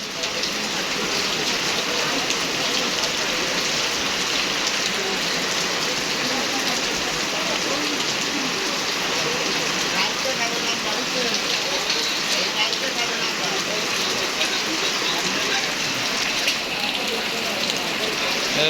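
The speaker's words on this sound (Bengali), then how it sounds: "নিলিবিলি বৃষ্টি নামতেছে" Steady rain falls at night on a roof, with water running off the eaves in Faridpur, Bangladesh; a dense, even hiss carries on unbroken throughout with little wind.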